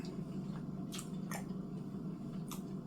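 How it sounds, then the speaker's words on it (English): Quiet wet squishing and chewing from eating sauced spicy and sweet chicken nuggets, a few soft close-up bites and smacks with no voices. "We got hot and spicy and honey. No, spicy and sweet chicken nuggets. So let's eat."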